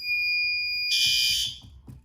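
A fire alarm system sounds during a test, a steady high electronic tone that jumps into a louder, harsher alarm partway through, then cuts off, with faint rhythmic knocking underneath.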